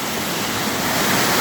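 Dense, steady roar of a waterfall in the Khao Sok jungle, loud and close, filling the air without a break.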